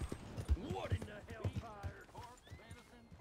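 Horse hooves clip-clopping in Red Dead Redemption 2, steady evenly spaced thuds of a horse walking, mixed with in-game sounds and heard under someone talking.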